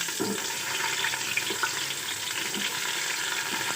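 Onions fry in hot oil inside a pressure cooker, giving a steady, dense sizzle with small crackles and pops close by.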